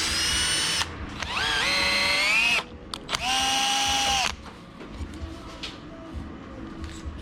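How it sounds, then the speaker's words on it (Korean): Power drill boring two extra holes into a 505 PRO Hunter Quad electric scooter's mudguard for side LED mounts, two loud sustained whining bursts with rising pitch separated by a short pause, close up. "추가로 구멍을 2개를 뚫었습니다."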